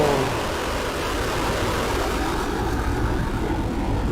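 Falcon 9 rocket engines thunder at liftoff for the AMOS 17 launch, a loud, continuous broadband roar that stays heavy and even throughout, distant but overwhelming.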